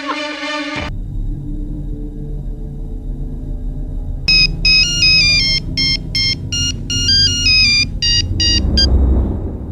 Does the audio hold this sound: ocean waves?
no